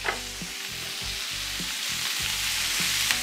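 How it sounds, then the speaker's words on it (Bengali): Shrimp and onion frying in oil with green chili, a loud, steady close sizzle with rhythmic scraping stirs every half second or so. "এবার পেঁয়াজের সাথে চিংড়ি মিক্স করে এটার আমরা ভাজতে থাকবো"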